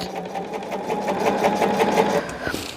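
A sewing machine stitches quilt fabric with a steady, rapid mechanical chatter at close range, running continuously and slowing near the end.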